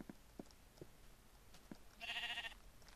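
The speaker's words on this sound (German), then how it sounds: "Irgendwo habe ich ein Schaf gehört." A sheep in the Minecraft video game gives a single short, faint bleat among quiet footstep-like thuds. There is no talking.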